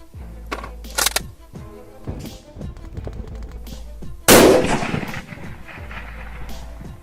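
A Kar98k bolt-action rifle fired at a steel plate 1,100 yards away: one loud, sharp report with a ringing decay, among lighter clicks and handling noises.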